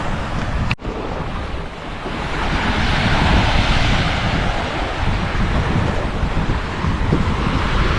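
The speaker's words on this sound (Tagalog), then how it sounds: "kalmang-kalma na yung dagat. Ang alon nandito na lamang sa gilid." A calm sea laps gently at the shore, with a steady broad wash of surf and wind noise after a brief knock near the start.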